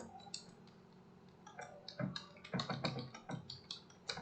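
Quick, uneven clatter of keys on a computer keyboard, close and fairly quiet, with bursts of faster typing toward the end.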